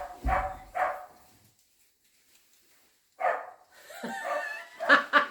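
Dogs at a self-built tiny house give a couple of short barks, then go quiet, then a burst of yips and whimpering barks, fairly close, with no talk.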